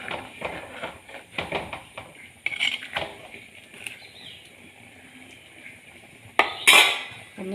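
Kerala-style coconut-ground avoli fish curry in a pan being swirled after hot water is added, giving light scraping and clinking of cookware in short bursts, with a louder clatter near the end and no talk.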